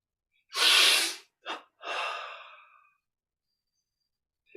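Strong, breathy inhalations during a yoga energization exercise: a long forceful intake, a short sharp breath, then another long breath trailing off, close and with no talking.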